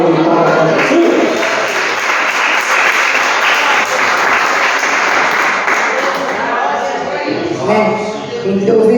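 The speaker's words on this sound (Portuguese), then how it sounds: "dá uma salva de palmas para Jesus" A church congregation claps and cheers for several seconds, a dense loud wash of applause with shouts mixed in, fading slightly near the end.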